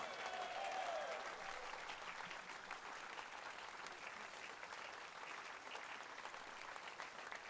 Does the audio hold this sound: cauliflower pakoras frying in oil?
no